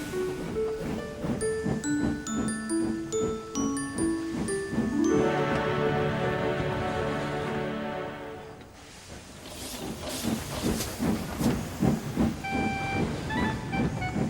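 Thomas the Tank Engine runs with a train, rhythmic chuffing and clattering under a bright, jingly musical tune. A sustained whistle-like toot swells in the middle before the chugging rhythm resumes.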